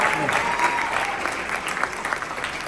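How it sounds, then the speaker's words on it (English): A room of guests at a Democratic Party county gala dinner gives a round of applause, a dense continuous wash of many hands clapping, steady and moderately loud, with a voice faintly audible beneath. "Everybody, let's give her a round of applause for coming out in the snow"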